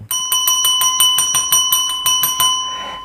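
A bright notification bell sound effect rings in a quick, even series of about a dozen metallic dings, loud and close, each note decaying briefly before the next, fading at the end.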